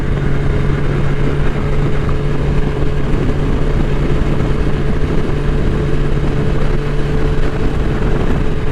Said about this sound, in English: I'm riding a naked Busa.